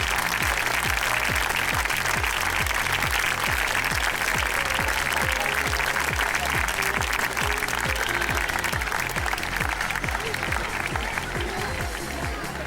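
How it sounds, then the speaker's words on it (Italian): Long, sustained audience applause at the opening ceremony of a youth festival held at a parish oratorio, a thick steady roar of clapping that stays loud throughout, with a faint rhythmic low thump underneath. "veramente merita il nostro applauso"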